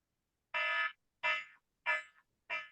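A personal alarm sounding in a room, four loud, close electronic blasts, the first long and the rest shorter, separated by brief silences.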